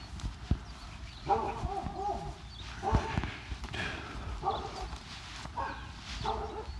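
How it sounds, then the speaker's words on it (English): Dogs bark from a property along a walk on a Central Texas road, a handful of short, moderately distant woofs spread irregularly over outdoor background noise. "Good morning, dogs. Good to hear you. Hear your voice."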